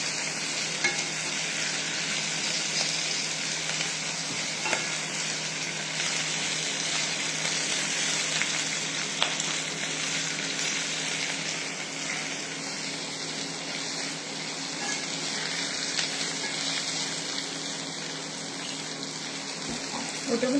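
Ginger and garlic fry in a pan, giving a continuous loud sizzle with occasional scrapes of stirring over about twenty seconds.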